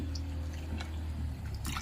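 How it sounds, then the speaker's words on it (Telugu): A little water poured into a pan of cooking onions and tomatoes for a moong dal curry, a steady close liquid wash with small drips and splashes throughout, ending in a slightly louder splash. "ఇంకా కొద్దిగా వాటర్ వేసుకుంటున్నాను"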